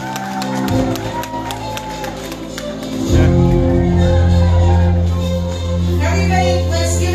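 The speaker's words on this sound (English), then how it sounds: "Let's give him a round of applause." A crowd at a birthday celebration claps and cheers, with shouts and whoops rising over loud music that swells midway, the applause lively and fairly close.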